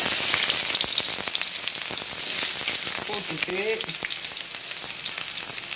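Finely chopped onions hit hot oil with cloves and cinnamon in a home kitchen pan, a dense continuous sizzle with crackling pops as someone talks over it.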